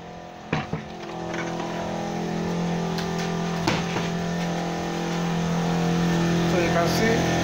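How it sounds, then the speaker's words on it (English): A small generator powering a pressing iron drones steadily and fairly loud close by, with a few sharp knocks early on, while a person talks over the running engine. "you can see the generator that is doing the work, that is powering the pressing iron"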